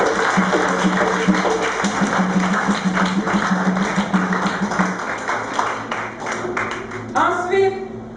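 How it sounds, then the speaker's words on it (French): Audience applause at a 25th jubilee celebration of a Sacred Heart of Jesus parish family, dense steady clapping filling the room for several seconds, fading slightly near the end with a voice briefly audible. "nous méritons d'applaudir"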